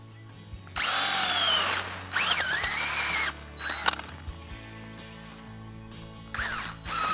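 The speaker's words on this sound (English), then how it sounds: "I think I got all those holes drilled out in like 2 minutes" A power planter auger drills holes through weed fabric in several loud, whining bursts of a second or so each, with quiet gaps between them and no talking.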